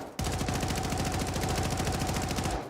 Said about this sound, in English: this hip fire is all over the map